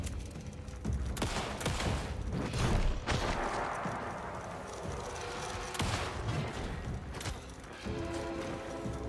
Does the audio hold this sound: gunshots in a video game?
yes